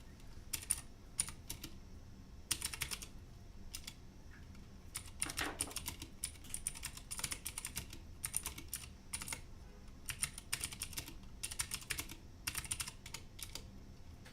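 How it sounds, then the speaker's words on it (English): Rapid typing on a Vortex CORE 40% mechanical keyboard in bursts with short pauses, crisp clacky keystrokes close up, no talking. "Just going to do a quick little typing test here."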